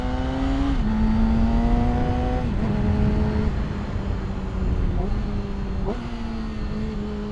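Motorcycle engine humming at steady throttle while riding, with several distinct pitch drops as gears are shifted without the clutch, loud and close under wind rush.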